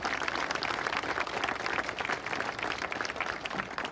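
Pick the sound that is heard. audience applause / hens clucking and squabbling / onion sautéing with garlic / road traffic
audience applause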